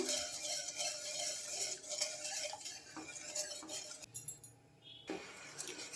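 A spoon stirs sugar into milk in a pot, light clinking and scraping strokes under a faint background hiss, close but quiet.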